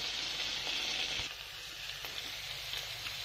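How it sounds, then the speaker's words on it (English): Red hot chili peppers and onions sizzle steadily in a hot pan, a dense continuous frying hiss with small crackles, close and fairly loud, with no voices. "Lightly sauteed onions."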